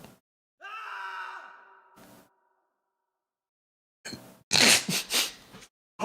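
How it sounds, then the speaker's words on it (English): A person sneezes during a chatty livestream; a drawn-out voiced groan comes first, then after a pause a cluster of sharp, loud, explosive bursts close to the microphone. "Over here sneezing"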